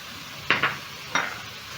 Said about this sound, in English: Stir in the garlic and ginger and let the onions together with the garlic cook until soft.